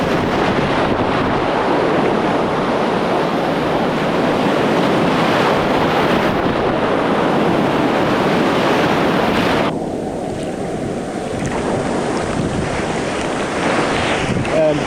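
Rough surf breaking on the shore at Cayton Bay, a constant loud wash of waves heavily buffeted by wind noise on the microphone, with no clear voices.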